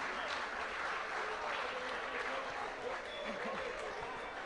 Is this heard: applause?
yes